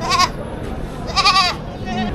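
Two loud, close goat bleats a second apart, with a fainter third bleat at the end, over background murmur at a livestock auction in Padre Garcia, Batangas.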